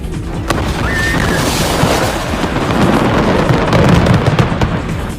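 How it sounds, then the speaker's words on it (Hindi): A roaring, sustained blast of explosive noise with crackling bursts throughout, loud and continuous, as a house packed with stored firecrackers detonates and burns. "कुछ ही सेकंड में पूरा का पूरा मकान धमाके से उड़ गया।"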